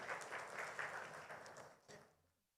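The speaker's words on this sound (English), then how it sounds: "Let's give them a round of applause." Audience applause fills a hotel breakfast event at a travel expo, a dense steady clapping from a crowd that fades out toward the end.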